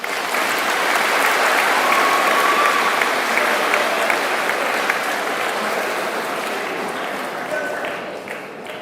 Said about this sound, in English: Another round of applause for Tyler.